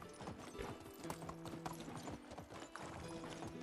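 Horse hooves clip-clop at a steady walking pace in the medieval life sim Medieval Dynasty, repeated crisp knocks of moderate loudness over faint ambient background.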